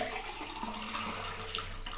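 Warm water runs steadily from a tap into a sink, a soft continuous splashing flow that stays even and fairly quiet throughout, with no talking.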